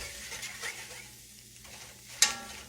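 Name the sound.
stirring salt pork grease for gravy in a pan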